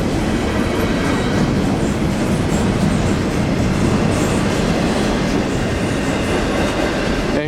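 A westbound CN intermodal freight train with container cars passes close by near Copetown, Ontario, a steady loud rumble with rhythmic wheel clatter throughout, no voices.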